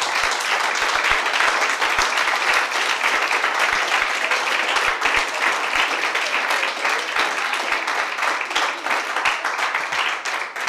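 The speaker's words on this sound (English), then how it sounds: "I ask you for a round of applause for my guests" An audience at an evening panel event on the safety of journalists applauds the guests with dense, sustained clapping that stays loud and even throughout.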